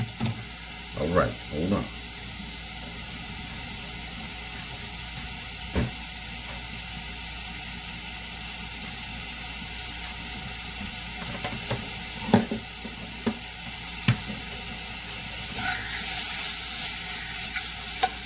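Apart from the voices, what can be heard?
bacon frying in a pan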